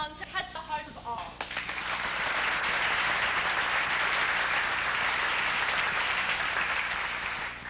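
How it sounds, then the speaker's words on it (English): Dinner guests at a Christmas madrigal dinner burst into hand clapping after a sung line; a voice trails off first, then dense, sustained applause swells and fills the hall for several seconds. "Let hand claps fill the hall."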